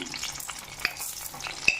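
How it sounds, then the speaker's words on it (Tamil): Mustard seeds and urad dal sizzle and pop in a little hot oil, a crackling fry with scattered sharp seed pops over a low hiss, with no talking. "அதில் கொஞ்சமாக ஆயில் விட்டுட்டு கடுகும் உளுந்தம் பருப்பும் தாளிச்சுக்கலாம்"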